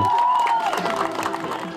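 Crowd applause at an outdoor opening ceremony for a new riverside embankment on the Turia in Kovel, as blue-and-yellow balloons are released. Steady, dense clapping and crowd noise fill the short stretch, with a brief tonal voice or whistle early on.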